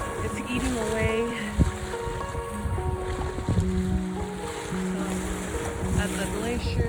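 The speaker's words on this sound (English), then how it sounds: "I love the sound of waves." Ocean waves wash steadily near a glacier on a winter hike, a constant rushing surf with wind, while people talk over it.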